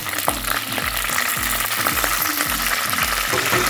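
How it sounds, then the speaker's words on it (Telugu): Curry leaves and green chillies sizzle and crackle loudly in hot oil for a crabs curry, a steady dense frying hiss with repeated low thumps of stirring throughout, no voices. "ఇందులో కరివేపాకు వేసుకున్నాను."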